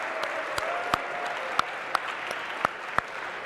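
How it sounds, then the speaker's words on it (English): A lecture hall audience applauds the winning guest at a Harvard CS50 class: a light, fairly steady patter of clapping with a handful of distinct loud claps standing out close by. "A big round of applause for our guest."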